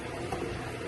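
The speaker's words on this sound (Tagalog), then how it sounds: "Ayan, kumukulo na." Butter chicken sauce bubbling in a pot, a soft, steady simmering burble, brief and quiet with no voices.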